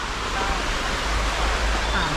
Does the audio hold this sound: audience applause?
no